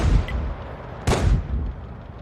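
A Sturmpanzer 1 Bison artillery round fired in a video game: a deep, booming shot arrives partway through, its heavy low rumble rolling out over steady background battle noise.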